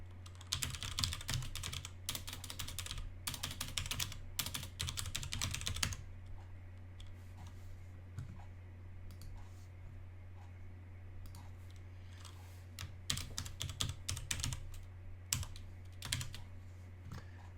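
Someone types an email address and password on a computer keyboard, with bursts of quick close key clicks separated by pauses, over a steady low hum.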